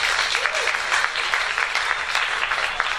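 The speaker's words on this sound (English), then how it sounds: "Round of applause, please." Steady applause from a class audience after a talk, a continuous bed of many hands clapping at moderate loudness, with a brief murmur of voices underneath.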